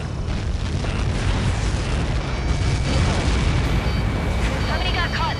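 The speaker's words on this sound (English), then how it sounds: "How many got caught in that explosion?" A massive strike blast from Helios projectiles in the air-combat game Ace Combat 7, heard as a sustained, loud roaring rumble filling the whole stretch, dense and unbroken.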